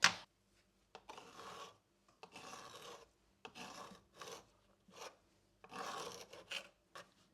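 Ordinary kitchen knife slicing wild oyster mushrooms into rough pieces, a series of short quiet rasping cuts in uneven bursts separated by brief pauses, close and faint.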